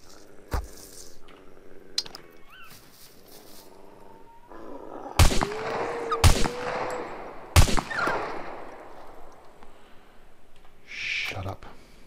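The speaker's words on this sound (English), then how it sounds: "I'm going to shoot you as well." Gunfire in the survival game SCUM: three sharp, loud shots spaced a second or so apart, cracking over a background of game ambience with brief speech-like sounds between them.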